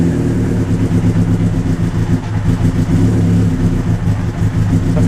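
A Honda CBR motorcycle engine runs loud and close after sitting unused for a week, a steady throbbing drone with repeated revs rising and falling throughout, and no talking over it.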